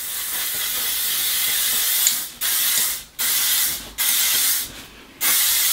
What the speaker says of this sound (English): And I just spray my hair